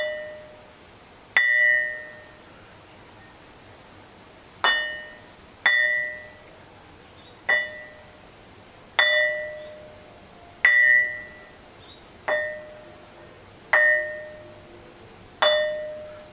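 Metamorphosed quartzite rock, charcoal-black, struck repeatedly while held in the hand, ringing with a clear bell-like ding after each blow; about ten separate strikes at irregular intervals, each tone decaying over roughly a second, no talk.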